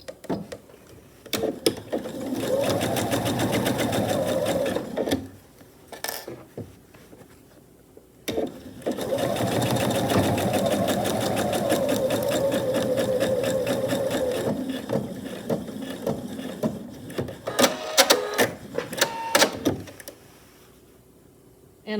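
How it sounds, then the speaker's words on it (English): A sewing machine with a regular presser foot runs a seam across a tote bag in two main bursts of rapid, steady mechanical whirring, plus short stop-start stitches for backstitching near the end, with quiet gaps between runs. "sew a seam with your regular presser foot this time right across here"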